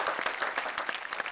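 Brief burst of audience applause at a Hindi comedy and poetry show, steady dense clapping from a crowd at moderate level.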